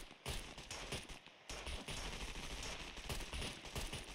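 Automatic gunfire in the survival shooter Scum, dense rapid bursts close by after a brief pause, near-continuous rattling shots filling the stretch with no clear talk.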